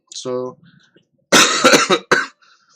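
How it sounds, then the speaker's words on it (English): A short vocal sound is followed by a loud, close burst of harsh coughing, two or three hacks in quick succession. "still have my cough."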